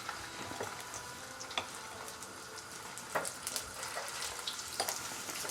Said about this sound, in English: Sauté.